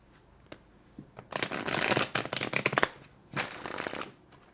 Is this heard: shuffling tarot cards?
yes